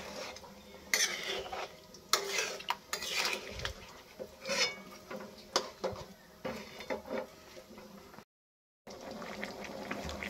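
Chicken and potato curry being stirred in a pot, with close scraping and clinking spoon strokes against metal and a soft bubbling underneath, followed by a brief dropout near the end, with no talking.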